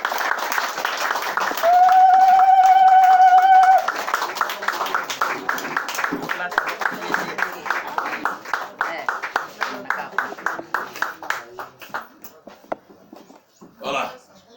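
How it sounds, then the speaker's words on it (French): Guests at a family meal clap in a steady rhythm of sharp, evenly spaced hand claps that fade out gradually, after a loud sustained whistle-like tone at the start and a short burst of sound near the end. "sous nos acclamations."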